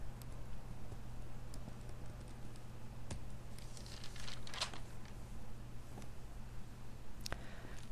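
Computer keyboard keys tapped to enter a localhost web address, a few sparse, soft clicks scattered over a steady low electrical hum.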